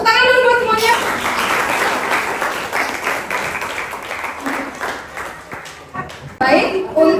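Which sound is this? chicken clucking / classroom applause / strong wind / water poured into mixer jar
classroom applause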